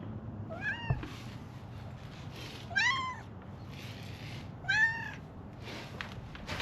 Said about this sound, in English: this is also my cat